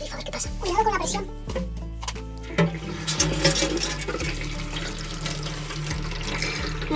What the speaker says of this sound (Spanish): Abre el grifo, a ver qué pasa. Cuidado con la presión.